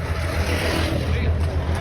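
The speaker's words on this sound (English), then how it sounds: "There's a car driving by." A car passes on a country road shared with horse-drawn carriages, giving a steady low engine rumble mixed with wind buffeting, close and fairly loud.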